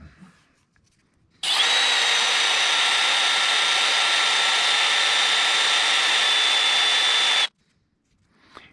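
A Floyd Rose guitar bridge part spins against sandpaper, producing one steady, loud, hissing whir that lasts about six seconds, starting and stopping abruptly.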